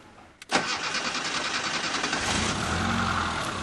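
A car engine fitted with fourth-generation LPG (propane) equipment cranks briefly and catches, then settles into a steady, fairly loud idle close by with no voices.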